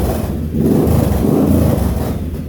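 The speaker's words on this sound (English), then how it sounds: "I made an exhaust system for it out of some old Norton exhausts" A Triumph Bobber motorcycle engine fitted with a homemade exhaust built from old Norton exhausts, running close by with a loud, steady low rumble that swells slightly partway through.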